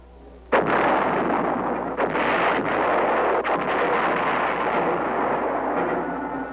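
Massive artillery fire during a Vietnam combat operation: a sharp blast opens into a dense, continuous roar of distant booming rounds, with several further heavy impacts rolling through it, loud throughout and no voices.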